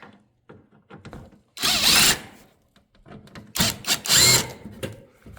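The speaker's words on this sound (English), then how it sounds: "we're going to start by removing our screws in the rear out of the mud flap from the body trim so we can get the mud flap out" A power drill backs screws out of a Land Rover Defender D2 mud flap and body trim, whirring in two loud bursts separated by softer clicks and handling noise.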